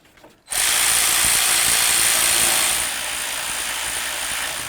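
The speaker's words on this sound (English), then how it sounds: "Start in all three of your bolts and then we'll snug them up." A power ratchet snugs three fog lamp assembly bolts in a car's lower bumper area: after a brief quiet start, a loud, steady mechanical whir runs continuously, easing slightly in level for the final couple of seconds.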